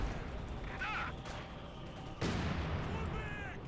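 Artillery barrage in the real-time strategy game Company of Heroes 2, with dense, continuous rumbling gunfire and a sharp louder burst of shelling partway through, all under a busy battle soundscape.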